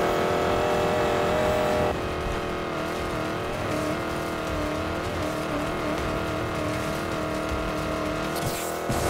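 Ford Mustang driving in the racing game Need for Speed Payback, with a steady, loud engine drone, shifting revs and a brief tire squeal near the end, no talk over it.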